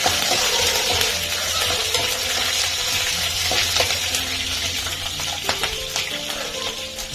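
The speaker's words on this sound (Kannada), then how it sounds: "ಹಸಿಮೆಣಸಿನ್ಕಾಯಿ ಸ್ವಲ್ಪ ಫ್ರೈ ಮಾಡ್ಕೊಂಡು" Green chillies frying in a pan of hot oil for a vegetable upma, a steady close sizzle with occasional scrapes and small clinks of a spoon against the pan.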